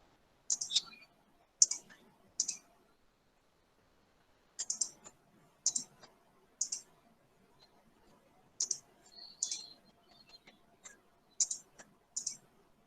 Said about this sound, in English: I click on something